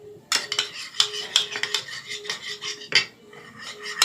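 A soap and salt slime mixture being stirred in a container, giving a series of close, sharp clinking and scraping strokes in an irregular rhythm, with no talking.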